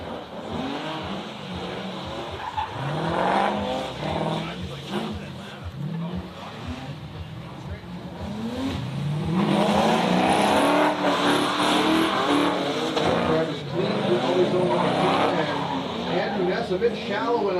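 Drift cars skid and rev hard on a track at a plains drifting event, with engines rising and falling, tires squealing and roaring louder midway, while a commentator talks over the racing throughout.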